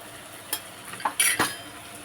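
Spoon stirring a spice mix of garam masala, turmeric, red chilli powder, salt and a pinch of asafoetida for dal bati, giving a few soft scrapes and light clinks against a bowl, quiet and close.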